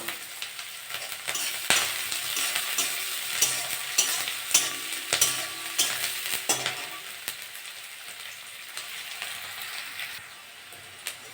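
Onion and green chili fry in a pan, the spoon clacking and scraping in a rapid, irregular rhythm over a soft, steady sizzle; the stirring fades out near the end, leaving only the quiet frying, with no talking.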